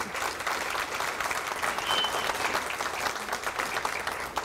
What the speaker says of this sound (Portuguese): Uma salva de palmas, professora Michele Artigue